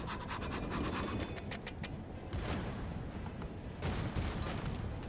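Ships exchange gunfire in the naval roguelike video game Sea of Rifts: a rapid run of shots comes first, then a few heavier blasts over a dense, continuous battle din.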